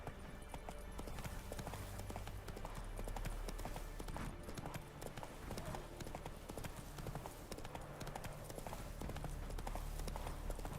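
Roach the horse trotting in The Witcher 3, a continuous close clip-clop of hooves on a road over a constant ambient game background, with no talk.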